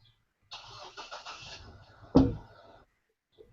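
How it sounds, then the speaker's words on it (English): A car engine turns over and runs for about two seconds, with a sharp thud partway through, heard at moderate volume before falling quiet. "You can even hear the car."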